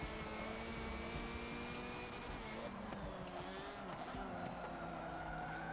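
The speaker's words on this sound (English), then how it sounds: "It's one where the car goes brrrr." A Lancia race car in Forza 7 snarls through a long continuous engine drone, revving up and down with tire skid and squeal mixed in, steady and sustained throughout.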